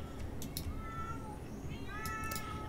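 Cat meowing in The Sims 4, several drawn-out meows rising and falling over a steady low background hum, fairly close and clear with no talking.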